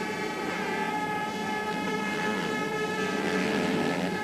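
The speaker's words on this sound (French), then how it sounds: "Et on les entend bien réguler, ces moteurs." MX2 motocross motorcycle engines revving hard during a race on the Isle of Wight, a loud, continuous, buzzing whine held throughout with no talk.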